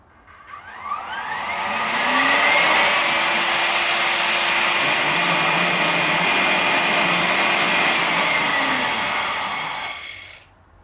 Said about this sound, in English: vacuum the coffee from the roasting chamber to the jar